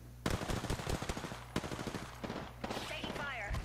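Rapid automatic gunfire rattles in a battle royale video game, dense close bursts of shots with a short pause and a brief voice line near the end.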